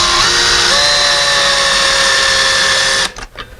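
An electric screwdriver drives a screw into an outside window-blinds mount with a steady, high-pitched motor whine that holds for about three seconds before stopping abruptly, with no talking.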